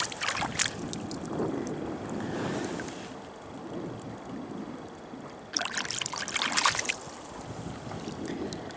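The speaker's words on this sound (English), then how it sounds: "Let's give it a little rinse off." A clay Turk's head pipe bowl is swished and rinsed in sludgy river water at the shore, giving soft continuous splashing and trickling that gets louder in a second burst.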